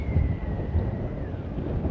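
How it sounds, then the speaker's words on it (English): A strong gust of wind buffets the microphone outdoors at a model jet flying field, a steady broadband rumble and roar with low thumps throughout, close and fairly loud with no speech. "Got a decent gust coming right now."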